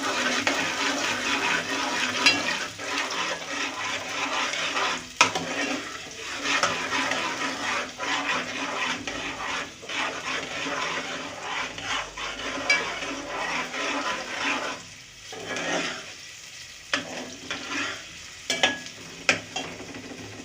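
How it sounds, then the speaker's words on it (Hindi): Chopped onions frying in oil for aloo ki tahiri, a continuous hiss of sizzling with intermittent stirring scrapes of a spoon against the pan, close and fairly loud, no voices. "अब इसमें मैं ये प्याज डाल रही हूँ। थोड़ा मिनट को चलाएं।"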